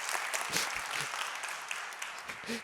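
Conference audience at a radio industry event applauding, a steady wash of many hands clapping at moderate distance, fairly quiet and continuous throughout.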